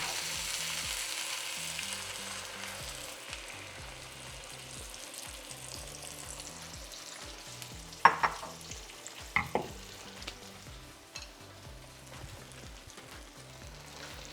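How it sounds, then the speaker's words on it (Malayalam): Sliced potatoes fry with a soft, steady sizzle for a Spanish omelette, broken by a few sharp clatters and spatters partway through as beaten eggs go into the pan and are stirred. "ഇനി ഇതിലേക്ക് ബീറ്റ് ചെയ്ത് വെച്ചിരിക്കുന്ന മുട്ട ചേർക്കാം"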